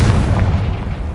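The Confringo blasting curse explodes in Hogwarts Legacy, a loud, close, deep rumbling boom that fills about a second, with no speech.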